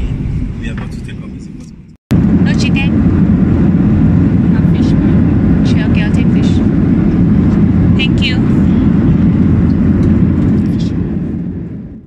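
Inside a Kenya Airways airliner on its takeoff roll, a loud steady roar of engines and rumbling cabin noise, starting abruptly after a short quieter stretch, with faint voices now and then.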